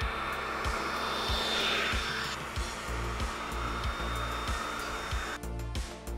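A leaf blower strapped onto a skateboard runs with a steady, loud roaring whine and airy hiss, a faint rhythmic clack of rolling wheels repeating beneath it, no voices present.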